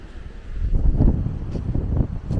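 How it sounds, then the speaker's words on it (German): Wind picking up on the coast of Gran Canaria, a low rumbling gust buffeting the microphone, rising and falling in waves, loud and close, with no voices. "Jetzt kommt der Wind auf"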